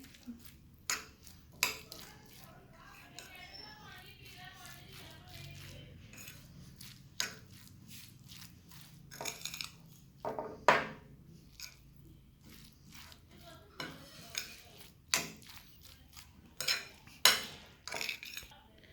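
A spoon stirs an egg mayo sandwich mixture in a bowl, making scattered clinks and soft squishing scrapes in an irregular rhythm against a quiet background.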